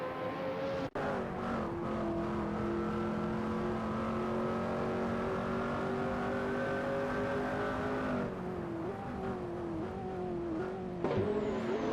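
Hypercar engines howl around Spa in a racing simulator game, a steady loud high-pitched drone with shifting pitch that holds for about eight seconds, then a brief dip and a change in tone as the cars sweep past.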